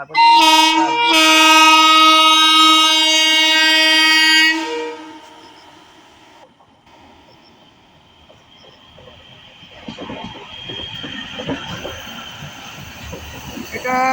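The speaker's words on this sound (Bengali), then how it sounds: "ট্রেন ঢোকা দেখলাম ট্রেন বেরোনো দেখলাম" A loud, sustained train horn blares for several seconds, then fades to the low clatter and rumble of a train rolling into a station.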